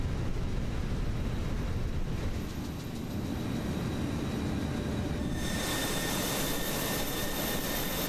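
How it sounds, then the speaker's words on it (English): The APU of a Fenix A320 starting up in a flight simulator game, a steady loud jet-like roar and whine that shifts midway into a brighter, higher-pitched hum, with no voices. "There's the APU firing up."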